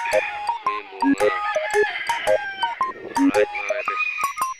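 A rooster, a backyard fowl, crows repeatedly close by in a rural yard, several sharp crows and clucks in quick succession with no talk over them.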